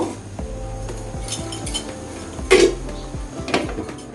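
Metal cookware clanks and clinks as a tawa and pot are set down for a spicy chicken pulao on dum, with a low kitchen hum beneath and one sharp clatter in the middle.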